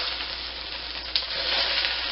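Pierogies sizzle steadily in a hot pan as they crisp at the edges, a loud continuous frying hiss with one brief knock from stirring.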